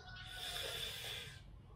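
A long, deep inhalation into the belly during a breathing exercise, a soft airy hiss sustained for nearly two seconds, close and fairly quiet with no talk.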